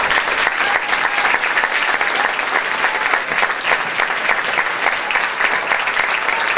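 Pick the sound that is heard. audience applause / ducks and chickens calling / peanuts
audience applause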